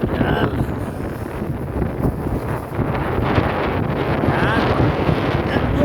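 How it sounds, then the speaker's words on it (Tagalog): Strong wind buffets the microphone aboard a small boat on rough, stormy water, producing a continuous loud roaring rush with gusty swells and no clear voices. "Mahangin eh."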